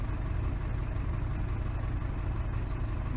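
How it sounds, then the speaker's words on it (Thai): A car engine idles steadily up close, a continuous low rumble with no change in pace throughout, in a car whose air conditioning is switched on but not cooling. "ฟังเสียงเครื่องยนต์ทำงาน"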